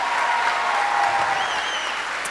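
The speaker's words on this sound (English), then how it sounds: "So one more round of applause," A school assembly audience breaks into loud, steady applause, a dense wash of many hands clapping that holds unbroken for a couple of seconds.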